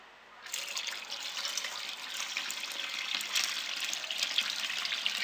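Water poured into a cooking pot over meat for a Moroccan couscous with vegetables, a sudden onset becoming a steady, close splashing gush that continues unbroken, with no talk.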